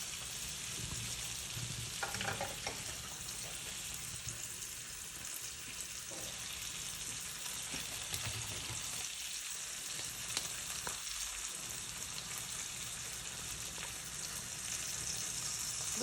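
Steak and vegetables fry in a hot pan with a continuous close sizzle, broken by occasional scraping and clattering as pieces are flipped and stirred.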